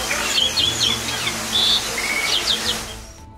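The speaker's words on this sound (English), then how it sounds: "Javan Pied Starlings like to chirp very loudly when they see a stranger entering their owner's house." Javan pied starling giving a run of loud, clear chirps and whistled notes, several quick calls close by against a steady background.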